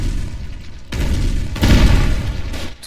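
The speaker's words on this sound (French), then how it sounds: "Toutes les 3 secondes il y a des coups de lance-roquettes dessus." Rocket launchers fire in a Foxhole battle, with deep booming blasts landing in heavy bursts, one at about a second and a louder one at about a second and a half, over a low rumbling backdrop.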